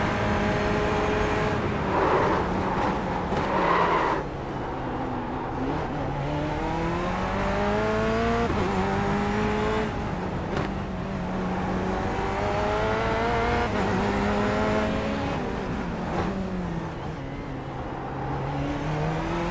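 Corvette C8.R race car engine in the iRacing sim: a continuous, buzzy high-revving drone that climbs and dips in pitch through gear changes and corners. It is steady and loud throughout, with no voices.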